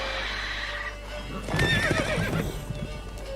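Roach, the horse in The Witcher 3, gives a loud close neigh over hoof clip-clop, with a low steady ambient hum beneath.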